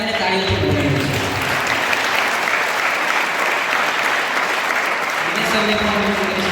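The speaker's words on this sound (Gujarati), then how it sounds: "આપણે એમને તાળીઓથી વધાવીએ છીએ" At a prize-giving at EMRS Ahwa school, an audience breaks into loud, sustained applause that fills the hall for several seconds before easing off.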